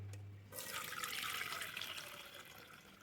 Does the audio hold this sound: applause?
no